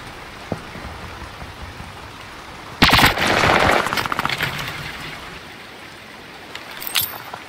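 Gunfire at a hardpoint in the first-person shooter Call of Duty Vanguard: a sudden burst of rapid automatic fire lasting about a second, then a scattered crackle of shots fading into quieter ambience, with a few faint shots near the end.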